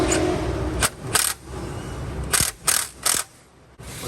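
A ratchet clicks in short bursts while the belt tensioner on a 1995–2004 Toyota Tacoma is tightened. The close metallic ratcheting comes in several separate spurts with pauses between them.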